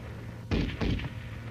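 Two short bursts of M73 7.62mm tank machine gun fire, a rapid clattering of rounds that hits hard and then decays into a second burst, heard over a steady low hum with no talking.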